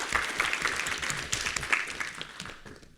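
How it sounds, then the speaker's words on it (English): A podcast audience claps for the guests as they are welcomed, a dense burst of steady applause that carries on evenly, then thins and fades out toward the end. "Let's give them all a round of applause"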